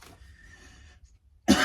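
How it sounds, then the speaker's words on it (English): A single loud, harsh cough bursts out near the end, after a stretch of quiet low background noise. "I apologize for the coughing."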